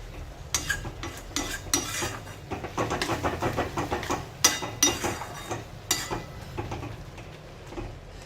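Gram flour being stirred and roasted in a pan for pithla, with repeated scraping and clinking strokes of a spoon against the pan, close and steady, with no talk.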